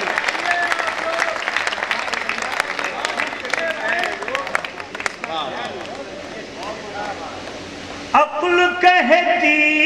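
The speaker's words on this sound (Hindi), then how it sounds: "एक बार मिल के तालियां बजा दें आप" Audience applause at a live poetry and music show, a dense burst of clapping from a crowd that fades as a voice and music come back in.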